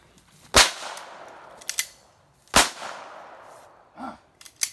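.22 LR gunshots from a GSG rifle: two sharp, loud cracks about two seconds apart, each with a short decaying tail, followed by fainter metallic clicks and a soft thump from handling the gun.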